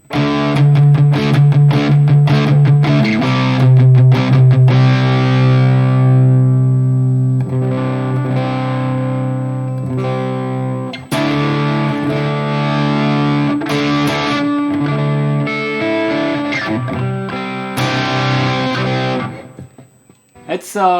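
A distorted electric guitar through a Plexi amp model on a Valeton GP-200, without a Tube Screamer, plays sustained chords and riffs with a crunchy tone, loud and continuous, with a brief pause midway.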